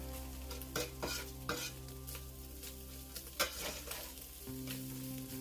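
Onions and garlic sauté in a pan for a homemade pasta Bolognese, a soft steady sizzle broken by repeated scraping and stirring strokes of a utensil against the pan, close and moderately quiet.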